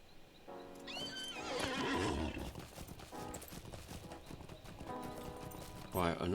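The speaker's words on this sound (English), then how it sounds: "Get on my horse and go." A horse gallops through Southern Mirkwood in a Lord of the Rings video game, its steady clip-clop of hooves running throughout with a loud whinny near the start and another burst at the end.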